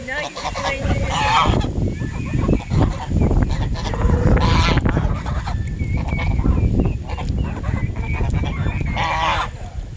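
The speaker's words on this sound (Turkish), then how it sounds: "Kazlar valla borazan gibi bir şey olmuşlar" A flock of geese honks loudly and repeatedly at close range in a village, a dense, overlapping trumpeting chorus with a few voices mixed in.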